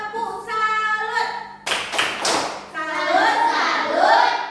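Children in a classroom perform a rhythmic clap chant, sharp group claps in a short patterned burst alternating with sung or chanted voices, close and lively, with a teacher's voice leading.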